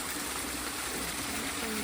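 Water flows steadily and pours out toward a paddling pool outdoors, a constant close hiss and gurgle with no break over the short stretch.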